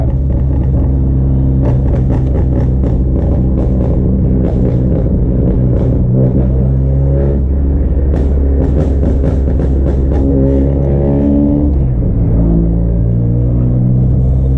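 A 2018 Honda Accord with a manual gearbox and a burble tune, held in third gear around 2,000 RPM, rumbling steadily and loudly with crackling pops and burbles scattered throughout, alone without talk.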